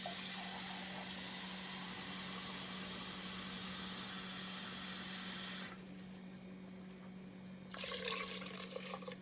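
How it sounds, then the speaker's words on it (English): Tap water runs into a cup for lentil barley soup being made in an Instant Pot, a steady close hiss of flowing water that stops briefly, then splashes again as another cup is filled. "Another couple cups of water."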